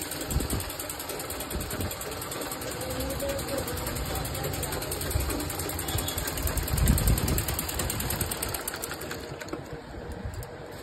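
A sewing machine stitching fabric, a rapid continuous mechanical whirring and clatter that runs the whole time at moderate level, with faint background noise and no clear talk.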